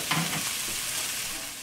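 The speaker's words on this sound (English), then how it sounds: "I'll just give that a little stir." Rice being stirred in a Heritage The Rock one pot, with a brief scraping stir over a continuous close, hissing sizzle. No one speaks.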